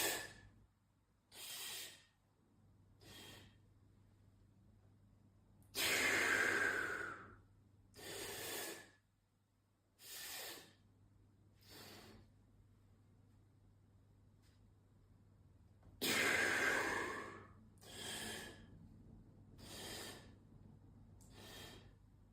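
Deep breathing in a three-stage breath exercise during a twisting fascia routine: a repeating pattern of three short sharp inhales followed by a long forceful exhale, close and clear, with no talking.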